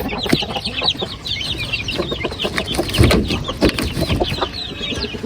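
Breeder chickens clucking busily at feeding time, many overlapping clucks and soft calls from a close flock in steady chatter, with a few louder squawks.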